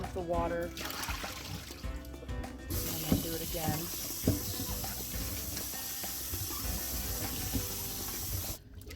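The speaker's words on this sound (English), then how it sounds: "Dump the water" Water splashes and pours from a container into a sink while dried chiles are rinsed, a continuous running trickle with a few clunks, and a voice speaks briefly over it.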